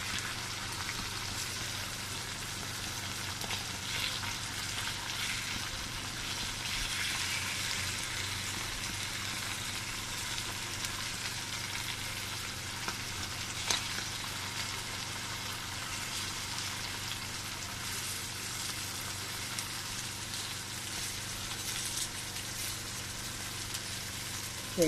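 Sardines fry in hot oil in a pan, giving a steady, dense crackling sizzle that stays even and moderately quiet for the whole stretch with no talking.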